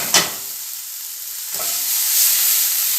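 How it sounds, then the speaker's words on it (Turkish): Chicken fries in a pan with onion and garlic tossed in, making a steady hiss of sizzling with a brief clatter at the start and another soft knock partway through as the pan is shaken. "Kızardıktan sonra lezzetlenmesi için soğanımı ve sarımsağımı atıyorum. Bunu şöyle iki çeviriyorum, sallıyorum."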